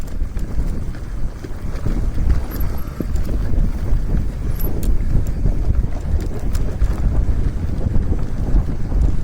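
Strong wind buffeting the microphone during a mountain bike descent along a Lake District ridge, a steady loud roar with gusty low rumble throughout and no talking.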